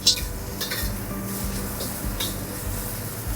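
Instant noodles are stir-fried in an iron wok over high heat, with repeated metal scraping and clanking of a utensil against the wok over a faint sizzle, close and busy.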